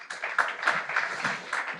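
Scattered audience applause at a business conference on digital payments and AI, with individual claps standing out in a loose, uneven rhythm, moderately close and without speech.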